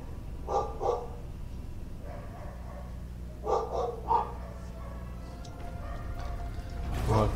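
Dogs bark across a neighbourhood in two short pairs of barks, distant and echoing over a low background hum, then a louder rustle at the end.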